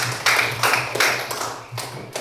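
A classroom audience gives short bursts of hand clapping during a teacher training session, several uneven waves of claps at moderate volume with little else around them.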